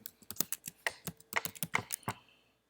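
Typing on a computer keyboard: a quick run of close, crisp key clicks at an uneven rhythm for about two and a half seconds, alone with no voice.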